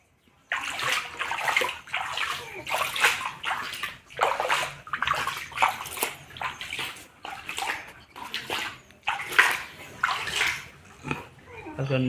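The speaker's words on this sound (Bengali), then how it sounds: "যেগুলো আমরা এবার মেন ট্যাঙ্কে ছাড়বো একটু কাত করে একটু জলের দিয়ে আস্তে আস্তে করে" Water pours and sloshes steadily from a tilted bucket into a fish tank as 131-day-old catfish are released, a continuous close gushing with uneven surges and faint voices in the background.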